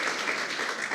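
A church congregation applauds their pastor, a dense, even wash of many hands clapping throughout, with no talk on top.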